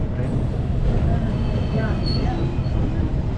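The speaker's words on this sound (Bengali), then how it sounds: "আর হচ্ছে বজুদি স্টেশন, ডিপার্ট করছে আমাদের ট্রেন।" An 18014 Bokaro-Howrah Express pulling out of Bojudi station, with a steady low rumble of rolling stock and faint wheel squeal throughout, a continuous close mechanical drone with some background voices.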